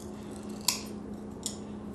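Scissors snip through a cupcake bunny ear in two short, crisp cuts, the first louder than the second, over a faint steady background hum.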